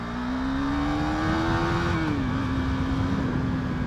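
A KTM Duke 390 Gen 2 motorcycle engine revs loudly and steadily for a few seconds, its pitch rising and then easing slightly as it holds a strong, continuous drone, close by with no talking.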